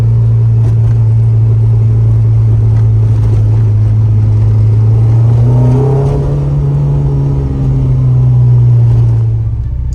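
A Toyota MR2 Turbo drives along with a loud, steady engine drone heard from inside, its pitch rising as the revs climb and then holding high, with road and wind noise and no talking.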